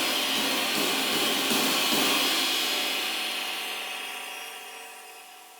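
A cymbal struck with the shoulder of a drumstick gives a bright, washy shimmer that swells over the first two seconds and then slowly decays, heard alone with no voices.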